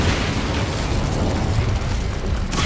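Incendio fire spell cast in the video game Hogwarts Legacy, a loud, steady fiery roar with a burst-like rush lasting about three seconds, close and continuous, with no talking.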